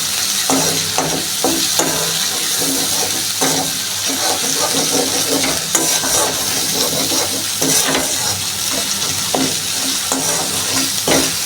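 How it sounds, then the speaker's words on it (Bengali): A masala paste with salt sizzles steadily in a pan for a moong dal and pointed gourd curry, with repeated stirring scrapes and clicks over the continuous frying hiss and no voices. "এটাকে ভালোভাবে কষিয়ে নিতে হবে"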